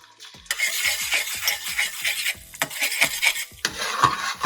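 Beaten egg poured into hot oil in a pan, sizzling and crackling in bursts alongside scraping and stirring of a utensil against the pan.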